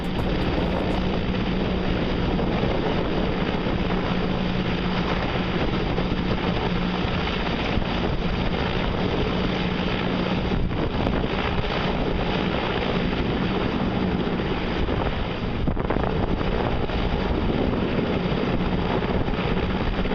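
A helicopter throwing up a huge dust cloud fills the air with a continuous, loud, roaring wash of rotor and wind noise that never lets up.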